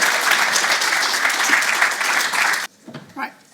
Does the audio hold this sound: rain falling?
no